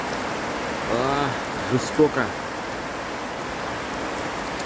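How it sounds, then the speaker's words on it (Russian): Heavy summer downpour drumming on a roof in a garden, a steady broadband hiss of rain throughout with someone talking briefly over it early on. "Хороший ливень."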